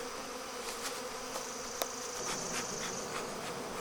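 Agitated honey bees swarm around a hive during a beekeeping move, their dense buzzing hum steady and soft, with brief louder passes as individual bees fly near.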